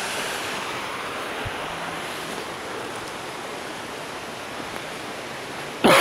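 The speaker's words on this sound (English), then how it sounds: "river." A river flowing through mountain countryside in the French Alps, a continuous broad rushing wash of water heard steadily, with a soft thump early on and a sudden louder burst at the very end.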